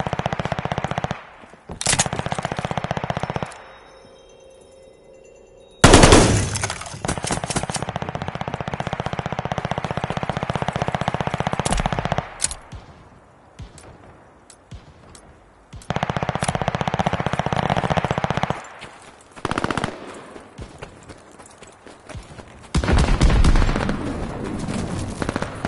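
Sustained machine-gun fire in the Call of Duty Vanguard Zombies video game, loud rapid bursts that stop and restart several times across the stretch, with short quieter gaps between volleys.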